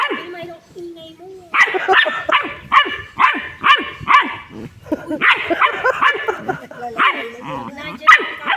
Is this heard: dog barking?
yes